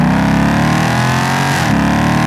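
A 2023 Ford Mustang GT with the 5.0 V8 revs hard, miked right at the factory exhaust tips: a loud, close, continuous roar that climbs in pitch and then drops off near the end.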